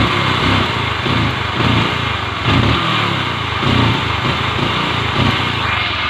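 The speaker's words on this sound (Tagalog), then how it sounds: "Kapag i-full throttle po natin, nalulunod siya at nahagok talaga" A small motorcycle engine with a diaphragm-type carburetor bogs at full throttle, running loud and near with a rough, surging, uneven pulse that chokes and recovers over and over.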